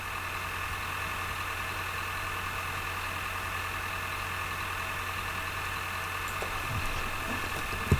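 A vehicle engine in the Farming Simulator game, running steadily with a constant mid-pitched drone and hum, unchanging throughout, with a faint click near the end.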